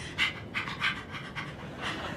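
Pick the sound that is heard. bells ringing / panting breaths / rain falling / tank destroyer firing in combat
panting breaths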